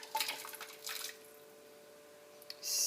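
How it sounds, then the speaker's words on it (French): Dry chickpeas poured into a pot of chorba, giving a short burst of small splashes and clatter followed by a brief second spill, then near silence. "Il ne me reste plus qu'à ajouter les pois chiches."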